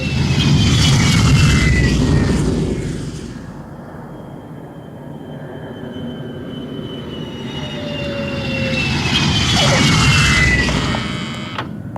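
Jet aircraft, an old BAC Lightning, passes overhead in two loud sweeping waves, swelling, easing to a steady distant roar, then building again, with no talk.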